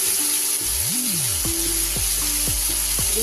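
Cashews and raisins fry in a pan, a steady loud sizzle with repeated scraping stirs at a regular pace, close by and with no voices.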